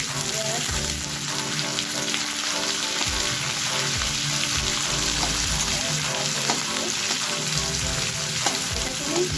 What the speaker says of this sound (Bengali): এবার পেঁয়াজ পড়লো, রসুন কুচি, এবার পেঁয়াজ পড়লো।